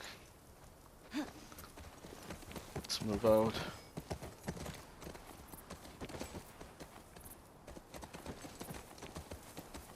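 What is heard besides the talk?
horse hooves clip-clopping in the video game The Last of Us Part II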